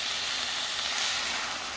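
Chile sauce poured onto cooking meat for Jalisco-style picadillo sizzles in a loud, continuous hiss with no talk.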